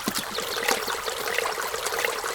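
A clear brook flows steadily through a lush, leafy forest scene in an audio game, its constant watery rush and trickle filling the whole stretch.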